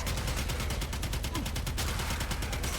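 Twin Kohmak pistols fire in the video game Warframe, a rapid continuous stream of sharp shots in a dense, even rhythm, loud and steady throughout with no speech over it.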